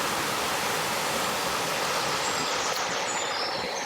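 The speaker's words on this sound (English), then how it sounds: "Get a sense of the ambience here, the noise of the running water, which can be quite calming." Running water of a river at dusk, a steady broadband rush with no breaks, close and fairly loud, filling the whole stretch without any voices.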